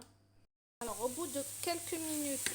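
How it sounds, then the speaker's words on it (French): Apple pieces for a light gluten-free crumble caramelize over very high heat in a pan, sizzling loudly and evenly after a short silence, while a person talks over the frying. "là j'ai mis à fond, vraiment, à feu très vite, pour pouvoir faire bien caraméliser les pommes"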